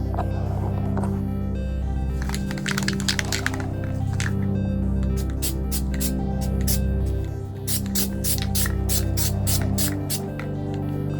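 Worth rubberized undercoating sprays from a can onto a Porsche 914 in several short hissing bursts over a steady hum. The bursts come close together in the second half.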